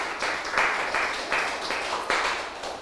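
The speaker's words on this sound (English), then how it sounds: "Say thank you and a round of applause to Captain Margaret Hogan and to Lieutenant Róisín." An audience at a Defence Forces talk applauds, a dense burst of hand clapping that surges and eases in waves, fairly loud and close, with no talking over it.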